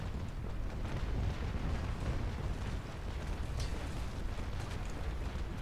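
Dense, continuous rumbling booms and blasts of massed ship cannons in a naval battle video game, like heavy cannon fire rolling together without a break, loud and sustained throughout.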